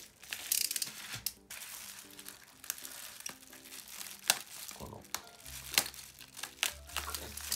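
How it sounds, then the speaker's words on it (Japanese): Crinkly peeling and tearing of tape off plastic packaging cushioning while unboxing a 2023 EPOCH ONE Tokyo Yakult Swallows signature card set, coming in irregular close bursts over a low background hum. "緩衝材についてるテープって剥がしにくいから"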